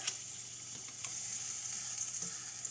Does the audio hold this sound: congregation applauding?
no